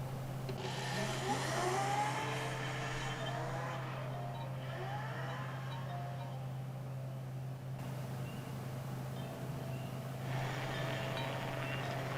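A car drives down a highway at night, its steady road rumble and wind noise droning evenly with a low hum throughout, with no voices.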